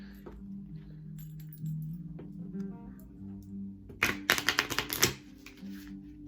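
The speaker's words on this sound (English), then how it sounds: "Let's give it a little shuffle." Quiet handling noises lead into a quick riffle of cards, a burst of rapid flicking snaps lasting about a second.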